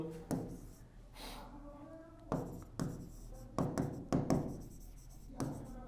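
Chalk or marker strokes on a classroom board during an English grammar lesson, a run of short scratchy taps and scrapes in uneven bursts, close and fairly clear.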